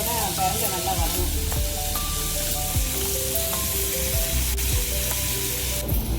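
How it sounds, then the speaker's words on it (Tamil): Pirandai (adamant creeper) sautéing in oil in a pan for a thuvaiyal, giving a steady close sizzle with stirring scrapes throughout and faint talk in the background. "பிரண்டை வந்து நல்லா வதங்கணும். கொஞ்சம் எண்ணெய் சேர்த்து ஊற்றி கூடுதலாக ஊற்றுவேன்."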